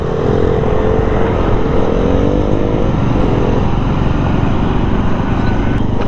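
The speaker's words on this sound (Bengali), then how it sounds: "দিল্লির রাস্তায় বাইক চালানো অনেক কষ্ট।" A motorbike rides through Delhi street traffic, its engine droning loud and steady at close range over a dense roar of surrounding vehicles, with a rising tone from passing traffic midway.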